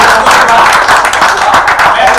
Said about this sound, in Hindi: इनके लिए तालियां बजा देना